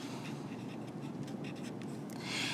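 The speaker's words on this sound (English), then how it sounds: "We're going to write here substrate." Marker or chalk writing on a board in an enzyme and metabolism lecture, a soft scratchy rubbing of short strokes, quiet and steady, with a brighter burst of scraping at the end.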